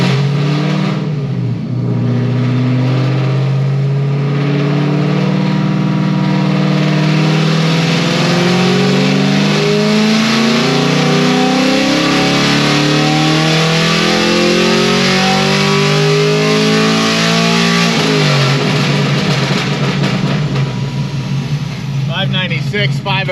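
A very loud car engine fitted with new heads and cam roars through a sustained dyno pull, its pitch sweeping steadily upward as it revs, then easing off near the end, with a voice partly heard over it.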